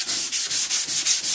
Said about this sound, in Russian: Берем вот такую мочалочку наждачную